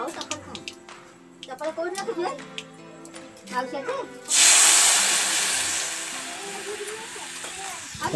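Mustard seeds dropped into hot oil for a rohu fish besar curry burst into a sudden loud, close sizzle after someone speaks, then the hiss slowly eases off.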